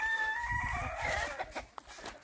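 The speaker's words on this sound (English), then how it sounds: "But I'm seeing chickens inside." A rooster crows once, close and clear, on a small farm on the outskirts of Lusaka, Zambia, with faint clucking and farm noise after the crow fades.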